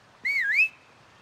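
A single clear whistled phrase, rising then dipping and rising again, in the video game Far Cry 6; close, clean and brief with no talk over it.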